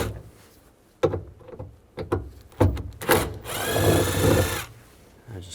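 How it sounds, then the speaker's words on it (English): Screws being removed from a 1999-2006 Chevrolet Silverado door panel, with a series of close clicks, knocks and scraping, then a sustained whirring buzz of a few seconds, loud and without talk. "There's two screws here. Use a Phillips head screwdriver."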